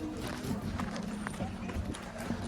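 Donkey hooves clip-clop on a path at Petra among a busy tourist crowd, the steps faint and steady beneath a continuous hum of background murmur and voices.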